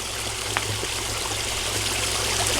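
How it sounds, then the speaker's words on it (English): Water is poured into a toy excavator beside a pond, making a steady, close trickling stream that runs the whole time, with faint outdoor background and no speech. "I'm trying to fill up some water. Ready to make it wet."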